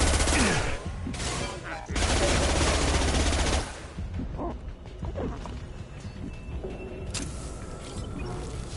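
Heavy sustained gunfire in the video game Mass Effect 2, loud dense bursts over the first few seconds, then scattered lighter shots and combat noise trailing off.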